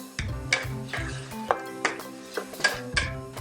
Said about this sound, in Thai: ผัดต่อให้เนื้อพอสุกค่ะ